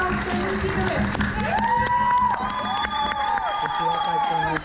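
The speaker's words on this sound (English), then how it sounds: "Give us a nice round of applause for them." An audience claps and cheers for a cast after a show, with whoops and shouting, loud and sustained throughout.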